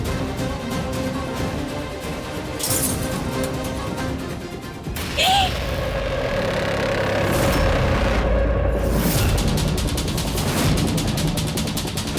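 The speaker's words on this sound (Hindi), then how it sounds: "शीशा कैसे टूट गया?" Glass shatters with a sharp crash in a Hindi TV drama, amid loud dramatic background music and effects that continue around the impact, with no talk over it.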